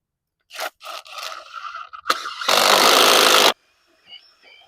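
A powered auger drills into soil for a retaining wall, giving a string of short crunching, scraping bursts followed by a loud, steady grinding roar lasting about a second, then quiet with faint rattles.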